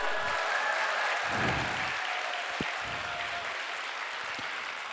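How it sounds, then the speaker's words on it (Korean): An audience applauds after a Korean national reserve canoe team member announces being selected, a steady wash of clapping at moderate level that carries on without pause, with some low rumble underneath. "박수!"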